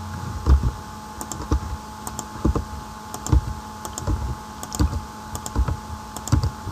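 Steady, close keystrokes on a computer keyboard typing values into a cafe management program, in irregular clusters of quick clicks over a faint electrical hum with no talking.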